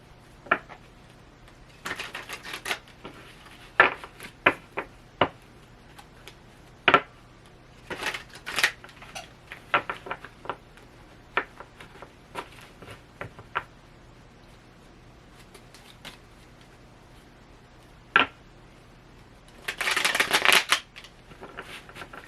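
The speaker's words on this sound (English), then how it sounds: "And we're going to shuffle them again." A worn tarot card deck is shuffled near the microphone in repeated crisp riffles and snaps, scattered in bursts over a quiet background, ending with a longer flurry of shuffling.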